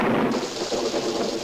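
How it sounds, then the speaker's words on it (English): Steady rain with a dull rumble of thunder, a dense continuous wash of noise that fills the whole moment loudly and evenly, with no voices over it. "Rain."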